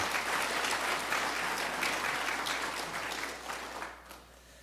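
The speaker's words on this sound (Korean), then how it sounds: "뜨거운 박수로 감사의 마음을 전해주시기 바랍니다." A church congregation applauds the Hosanna choir after its year-end hymn of thanks, a steady roomy wash of clapping that gradually fades toward the end.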